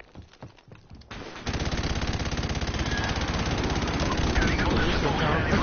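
Heavy explosive barrage from an airstrike in Call of Duty Modern Warfare Remastered, a dense rapid pounding that starts after brief quieter game noise and holds loud and continuous, with some voice faintly underneath.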